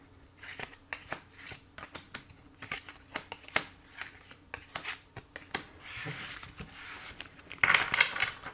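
Tarot cards are shuffled by hand for a reading, giving a close, fairly quiet series of irregular flicks and riffles with a brief soft rubbing swish near the end.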